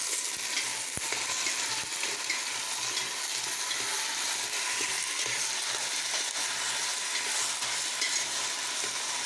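Potatoes fry in a pan for a Gaziantep-style home dinner, giving a steady, dense sizzle with occasional stirring scrapes, close and continuous.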